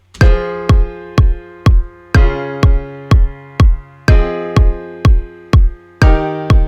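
A punchy kick drum thumps on a steady beat under sustained piano chords that change every couple of seconds; loud and close, with no speech.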